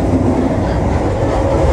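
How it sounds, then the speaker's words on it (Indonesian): Executive-class passenger train built by PT Inka Madiun in 2009 and running on an Indonesian line, heard from onboard as a loud, steady rumble with faint clickety-clack of wheels on rails. "Kereta eksekutif tahun 2009 buatan PT Inka Madiun ini pertama kali dinas itu tahun 2009"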